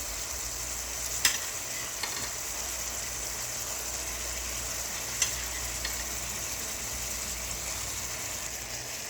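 Pieces of rohu fish fry in hot oil for a fish curry, giving an even, close sizzle throughout with a couple of faint utensil clicks and no speech.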